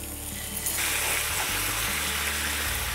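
Onions sizzle loudly and steadily in a hot pan with stock, mustard and onion chutney for a bangers-and-mash supper, a dense continuous frying hiss with small stir shifts and no talking.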